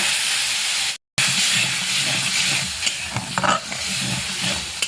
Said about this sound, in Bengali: এবার মশলা জলটা দিয়ে দেব